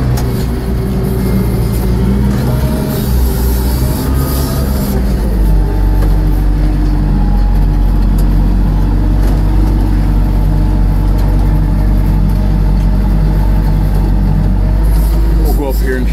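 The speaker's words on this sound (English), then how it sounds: "Pretty good load of logs on the old truck." Old Mack log truck hauling a load of logs, a heavy diesel drone rumbling steadily at close range throughout, with the engine note deepening partway through and people talking over it.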